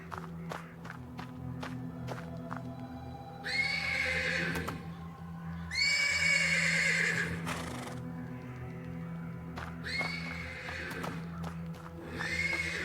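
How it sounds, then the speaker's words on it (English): A horse in a stable neighs and whinnies repeatedly in drawn-out bursts, with shuffling hoof steps and a steady low hum beneath, from a video game. "The persistent neighing of a horse can be heard from the stables."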